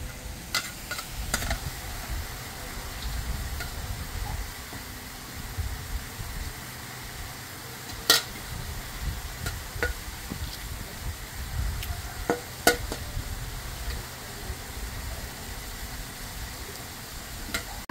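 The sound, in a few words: stirring the ambad (prawn) fry mixture with tamarind in a pan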